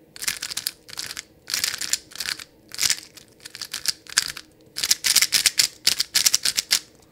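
Rapid plastic clicking and clacking in quick bursts with short pauses from a YuXian Little Magic speed cube being turned fast, close up.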